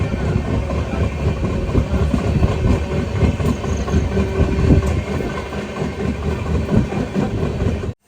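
The Hampi Express gathers speed, its wheels keeping up a steady, loud clickety-clack over a continuous rolling rumble heard from inside the carriage.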